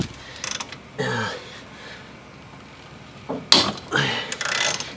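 A half-inch socket driver ratchets loose the nuts on a stuck suspension arm of a Suzuki, giving loud, close bursts of metallic clicking and grinding separated by brief pauses.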